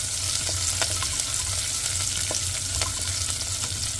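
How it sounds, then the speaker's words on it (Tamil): Small onions and garlic sautéing in a pan for temple-style sambar rice, a steady close sizzle and crackle of frying with occasional stirring clicks throughout. "வெங்காயம் பூண்டு நல்லா வதங்கட்டும்."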